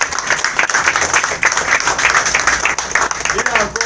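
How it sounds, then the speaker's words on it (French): A church congregation claps and cheers praising God, dense rhythmic applause running throughout with voices calling out over it. "Il faut applaudir à Dieu"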